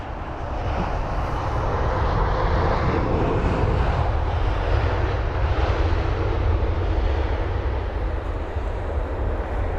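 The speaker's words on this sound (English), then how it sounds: "We've also got that aircraft in the sky there. It's like a bit of a boring A320. Let's check. No, it's an A319" An Airbus A319 airliner flies over London Heathrow, a steady broad engine roar that stays loud and even for several seconds, with no voices.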